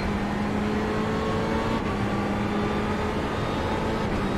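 Ferrari race car engine droning steadily at an Italian race track in a racing video game, a continuous loud hum with sustained tonal whine and no gear changes, alone without voices.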